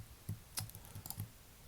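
Several soft, close clicks from a computer keyboard and mouse sound in quick, uneven succession, faint and dry against a quiet background.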